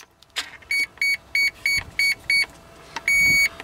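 An RC boat's speed controller gives six short electronic beeps in an even rhythm, then one longer beep marking a 3.2-volt low-voltage cutoff, clear and close after a brief click.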